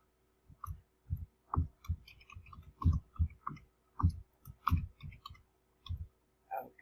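Soft, irregular clicks of a finger tapping a phone or computer app, close and quiet, in uneven runs with brief pauses.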